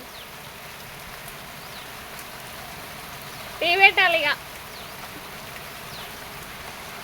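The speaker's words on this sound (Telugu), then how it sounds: "వర్షం పడుతుంది" Continuous rainfall hisses in the background while a voice speaks briefly in the middle.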